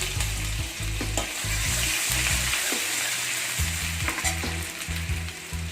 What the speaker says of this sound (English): Stir the ginger garlic, chopped ginger garlic well.